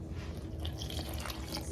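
Water and whole milk pour into a bowl of flour for blueberry pancake batter, a steady close liquid trickle with small splashy drips throughout, no talking.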